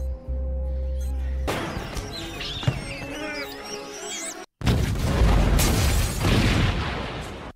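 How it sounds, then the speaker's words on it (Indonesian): Heavy booming explosions with crashing debris, loud and chaotic, a short silence, then another burst of rumbling blasts and crackling. "Pas bomnya itu meledak"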